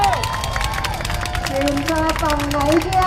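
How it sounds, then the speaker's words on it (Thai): Crowd at a protest rally staging a boxing show at Democracy Monument, Bangkok, clapping and cheering loudly and continuously, with a voice over a loudspeaker and sung or shouted tones running through. "ผมขอเสียงปรบมือด้วยครับ"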